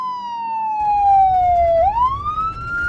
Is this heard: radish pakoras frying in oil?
no